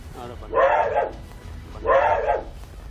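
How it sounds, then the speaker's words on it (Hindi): A dog sitting inside a parked bus in Karachi gives two loud, close barks about a second and a half apart, heard over low background noise. "इसमें तो कुत्ता बैठा हुआ है यार।"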